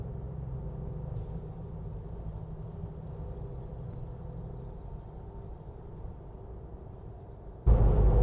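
Ford Bronco driving at highway speed, a steady low road and engine drone inside the cabin with no clear rise in pitch, ending with a sudden louder burst of rumble.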